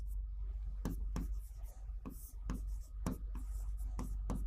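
Chalk tapping and scraping across a classroom board as points are written, sharp repeated strokes at an irregular rhythm, close and crisp, with a teacher's voice speaking between them.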